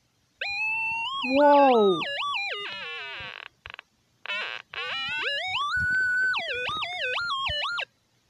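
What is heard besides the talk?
oscillator synth tones in Chrome Music Lab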